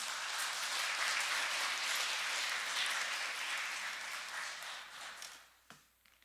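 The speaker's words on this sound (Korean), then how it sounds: "우리 박수로 환영하겠습니다." A church congregation gives a sustained burst of applause to welcome a visiting missionary from the Philippines; the dense clapping holds steady, then thins and fades out over the last second or two.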